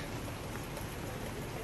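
Heavy rain pounds steadily on a roof as a dense, unbroken wash of hiss and patter, loud and constant throughout, with no voices.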